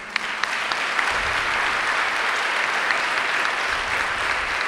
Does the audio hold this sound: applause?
yes